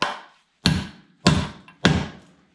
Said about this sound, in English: we're just gonna hammer this in place